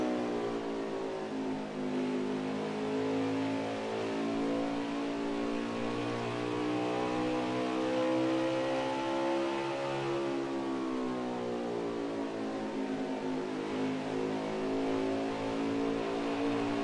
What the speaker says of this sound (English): Hear that throttle trace around here.